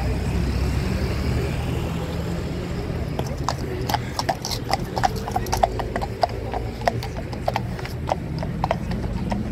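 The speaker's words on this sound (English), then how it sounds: "I said it's a grey horse." A grey horse's hooves clip-clop on a hard winter street at Horse Guards Parade, a steady rhythm of sharp clicks at moderate distance over background hum, with faint voices.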